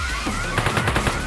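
Rapid automatic gunfire from a video game, a steady burst of close, loud shots firing in quick rhythm throughout, with no talking.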